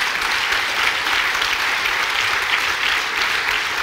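An audience at a talk applauds steadily, a dense even wash of many hands clapping at moderate loudness, filling the whole moment without voices.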